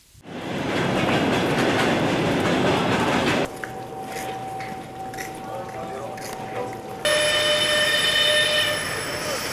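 A Trans-Mongolian passenger train rolls along the rails near Irkutsk, its wheels a loud, continuous rumble that drops away and changes to a quieter hum and a thin steady tone partway through, with a faint squeal at the end.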